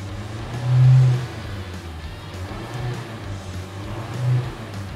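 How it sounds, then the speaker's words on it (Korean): A third-generation Kia K5 engine, hood open, idles with a low steady hum, then revs up briefly twice, the first rev louder and longer, heard close by. "한번 출력 올려서 엔진 상태나 이런 것들 한번 볼게요"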